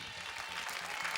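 A studio audience applauding at a live TV music show, a brief dense burst of clapping from many hands with a crowd murmur underneath.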